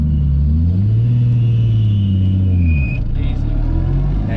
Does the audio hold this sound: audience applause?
no